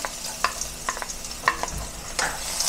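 Garlic sizzles in a hot pan at the start of a pork stew, a soft crackle under repeated scraping strokes of a spoon stirring it.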